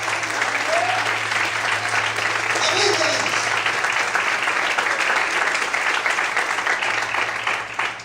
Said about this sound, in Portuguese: Quantos podem glorificar e aplaudir o Senhor bem forte?